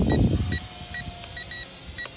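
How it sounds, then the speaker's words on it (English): A Snaptain SP650 camera drone's low-battery warning: a series of short, high electronic beeps in a steady repeating pattern, with faint background noise between them. "There we go, we got beeping."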